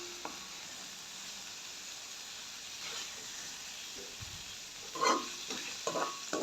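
Dried fish (karuvadu) fries in oil in a pan with a continuous sizzle and hiss, then louder bursts of stirring and spattering near the end, close-up with no talk.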